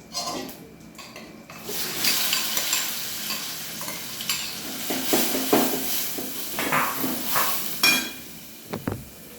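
Asafoetida and onion sizzle loudly in hot oil in a heated steel pot, a steady crackling frying hiss with repeated scraping stirs, fading into a few sharp utensil knocks near the end.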